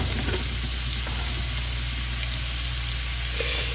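Chopped garlic fries in hot oil in a pan for homemade pickled chiles, a dense, steady crackling sizzle that holds close and loud throughout with faint stirring and no talk.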